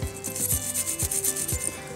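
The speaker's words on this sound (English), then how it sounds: "we're just going to give it a quick clean to get all the brake dust out" A brake pad shim is scrubbed clean of brake dust in quick rhythmic rasping strokes, about four distinct passes, close and clear with no talking.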